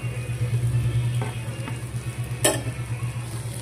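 Liver fry with masala sizzles steadily in a pan as a spoon stirs it, with a few sharp scrapes and clinks over the constant close frying hiss.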